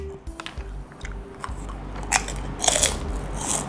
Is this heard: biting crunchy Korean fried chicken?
yes